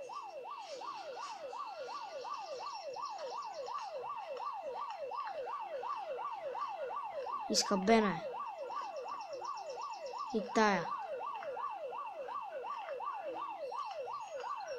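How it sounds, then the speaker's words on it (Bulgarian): A wailing emergency siren cycles steadily and loudly throughout a zombie video game, with two sharp louder bursts of other game noise cutting in midway and a brief line of speech. "Но защо има сирени?"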